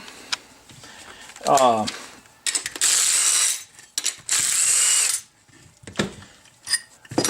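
A bolt being backed out with a ratchet, bursts of loud, close mechanical clicking and ratcheting in a few separate runs, with brief pauses and small handling knocks between them.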